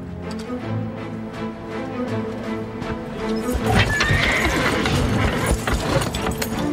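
A horse harnessed to pull whinnies loudly, then heavy hooves clatter and stamp amid rattling, clanking noise close by.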